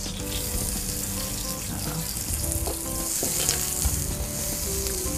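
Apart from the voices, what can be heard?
garlic and onions frying in a pan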